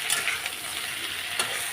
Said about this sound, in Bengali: এখন আমি জিরে আর তেজপাতা ফোড়ন দিয়ে দিলাম আলু আর পটলগুলো